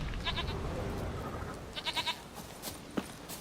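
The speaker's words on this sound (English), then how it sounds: "Here, goat." Goat bleating in The Witcher 3, several short nasal bleats in two brief bursts over steady ambient game background.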